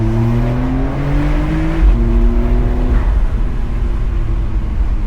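A Porsche 992.2 Cabriolet engine pulls hard in second gear on the Großglockner Pass, its loud, close roar climbing in pitch, then briefly dropping and rising again as the car accelerates.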